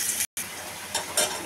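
Chopped onion and garlic hiss and sizzle in hot oil in a kadai for a dried-fish bhuna, a close, steady frying crackle with a few brighter bursts and one brief dropout.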